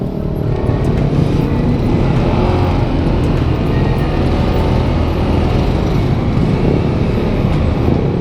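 Dense, loud road traffic with cars and other motor vehicles passing close by as a continuous engine rumble and roar, with no voices.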